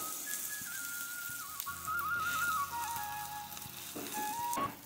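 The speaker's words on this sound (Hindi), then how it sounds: "तो तवा गर्म हो गया है, अब मैं इसमें मैं बैटर डालूंगी और इसको फैलाऊंगी मैं पूरे तवे में" Batter being spread across a hot greased griddle (tava) in a hill-village kitchen, giving a soft continuous sizzle beneath a wavering whistle-like tone and light scraping.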